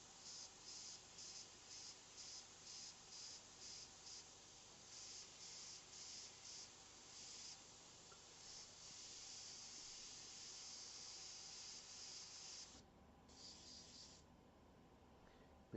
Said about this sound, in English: Make sure I'm getting proper airbrush spray